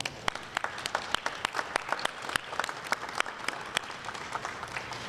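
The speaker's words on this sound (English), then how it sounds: "they deserve a round of applause" Scattered applause for frontline personnel at a city press conference on a real-time safety system: sparse, distinct claps from a small audience, steady and moderately near.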